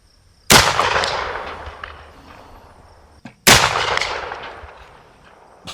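Two sharp, loud shots from a CVA Accura LR-X muzzleloader rifle, about three seconds apart, each a close, booming crack followed by a long rolling decay outdoors.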